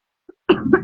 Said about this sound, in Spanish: Es que ahora estoy con tos por la alergia